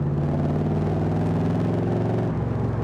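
A Chevy V8 in a 2005 Pilgrim Sumo Cobra Mk3 pulls hard in fourth gear from about 30 mph, a deep steady exhaust rumble building evenly, close and dominant, with a brief dip near the end.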